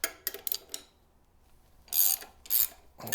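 A ratchet wrench turns a bushing press tool during a suspension bushing replacement, giving several short, close rasping click bursts separated by quiet pauses.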